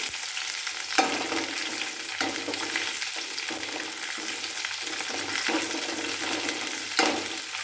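Green chilies, garlic and dried red chilies fry in hot oil for a potato and okra stir-fry, giving a steady close sizzle throughout with a few louder crackling bursts and stirring clatters.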